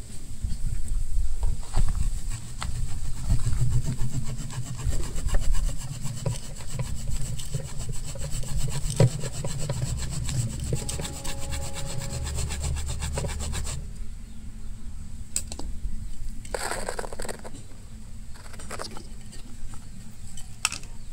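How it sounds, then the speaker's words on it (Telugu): Bonsai roots being cut, with a steady rhythmic rasping saw-like scrape running close and continuous, then lighter scattered cuts and rubbing toward the end. "ఇక్కడ మనం రూట్స్ కట్ చేసుకోవాలండి"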